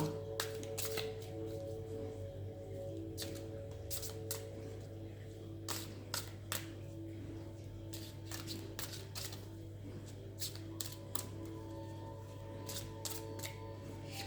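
Oracle cards riffled and shuffled by hand in repeated quick bursts of crisp flapping, close and fairly quiet over a low steady hum, with brief pauses between shuffles.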